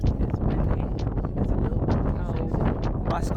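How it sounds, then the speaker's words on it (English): Strong gale-force wind in Norway buffeting the microphone with a constant low roar and rough rumble, steady throughout. "It's windy."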